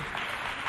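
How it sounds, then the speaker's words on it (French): Audience applause at a televised stage event, a short burst of steady, dense clapping from a crowd, moderately loud and continuous throughout. "On l'applaudit bien fort, merveille."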